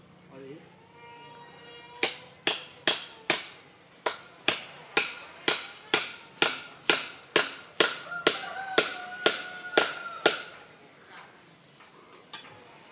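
Roughly twenty sharp hammer blows drive a bamboo stake during honey hunting, struck in a fast, even rhythm with crisp ringing knocks, near and loud, while people talk faintly before the strikes begin.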